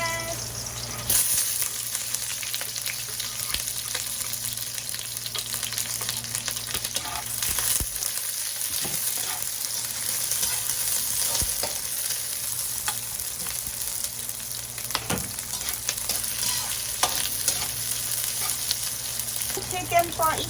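Garlic and onion sauté in hot oil in a pan for chicken afritada, a continuous loud crackling sizzle punctuated by stirring scrapes and a few utensil knocks throughout.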